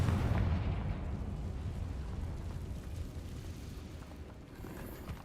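A Confringo fire spell explodes in the Hogwarts Legacy video game, a dense rumbling blast that starts loud and settles into a sustained roar fading slowly over several seconds.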